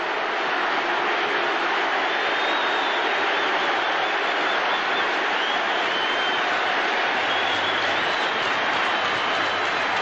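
A loud, sustained roar of the stadium crowd at the 1985 Atlanta Falcons at Seattle Seahawks football game, a continuous wash of noise holding steady throughout without letting up.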